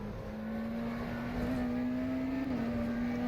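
A McLaren Senna GTR hypercar in the rFactor 2 racing game at Sebring gives a steady, droning engine note, holding a near-constant pitch with a slight rise and dip and no talk.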